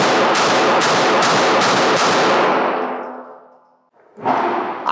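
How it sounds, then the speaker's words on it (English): Six sharp, loud pistol shots from a Springfield Echelon firing SMB 115 grain rounds at close range, evenly spaced about half a second apart, each ringing briefly, followed by a fading tail and a faint metallic clatter. "So these are my first 6 rounds out of the gun."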